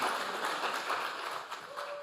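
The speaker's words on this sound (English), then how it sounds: "Please give Wasafoli a loud round of applause for their excellent performance." An audience applauding at an Emancipation king and queen competition: a steady, dense wash of clapping held at a moderate level throughout.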